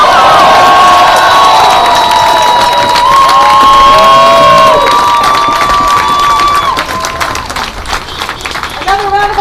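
Loud crowd cheering, whooping and applause at a Providence protest rally against funding for Israel, sustained close and dense, with shouted voices over the clapping before it thins slightly near the end.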